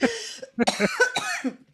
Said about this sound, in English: I'm coughing a lot.